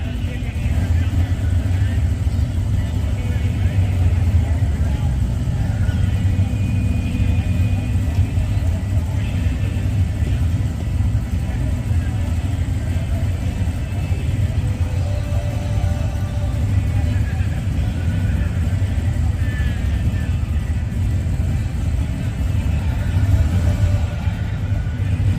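A Chevy LUV drag racing car at a drag strip in Coos Bay, Oregon, holds a loud, continuous low engine rumble bouncing off the rev limiter, heard from a distance for the whole stretch.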